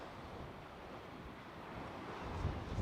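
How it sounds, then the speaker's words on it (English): Steady wind roars over rough sea at the North Wall, Cleethorpes, a dense broadband rush with low buffeting that swells slightly toward the end. "A lot of this is wind and tide noise"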